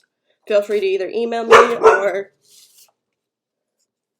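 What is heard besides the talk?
dog barking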